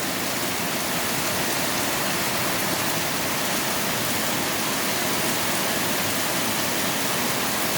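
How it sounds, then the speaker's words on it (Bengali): Heavy rain pours down in a dense, steady roar that fills the whole stretch evenly, close and loud with no break and no voices. "দেখুন প্রচণ্ড বৃষ্টি হচ্ছে, প্রচণ্ড"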